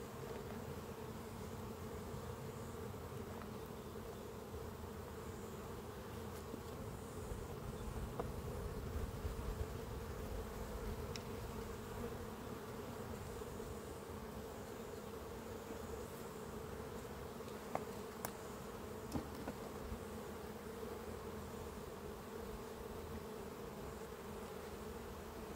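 Honey bees swarm and buzz around an open beehive during a nectar flow, with a dense, steady drone filling the whole stretch close to the listener and no talking.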